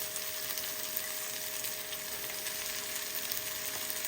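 Spinach sizzling in a frying pan while cooking palak chana dal, a steady soft crackle and hiss that stays even and fairly quiet with no voices over it.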